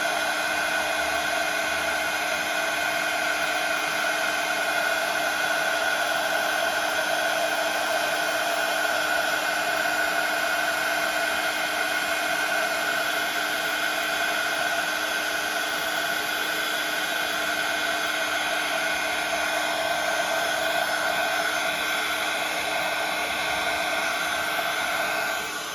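A heat embossing tool blows hot air over metallic embossing powder in a rubber-stamp craft project, a constant close whirring hiss with a high whine that runs unbroken throughout.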